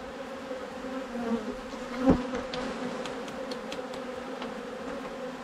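Honeybees buzz steadily around an opened beehive during honey harvest work, a dense continuous drone with occasional louder bees passing near, plus a soft clack or tap midway and no speech.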